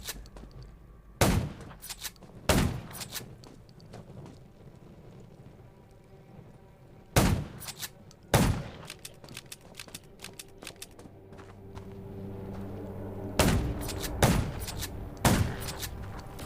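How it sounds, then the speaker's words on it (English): Sharp, loud gunshots ring out one or two at a time with long pauses between, over a low murmur of game ambience in the zombie game Undawn on Android. "Gunshots will attract more zombies."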